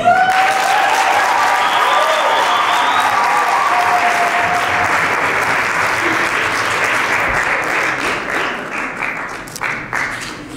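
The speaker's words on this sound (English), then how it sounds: "Yes, let's give it a clap one more time." Wedding guests at a church ceremony break into sustained applause, a dense wash of many hands that holds steady and then thins into scattered, uneven claps toward the end.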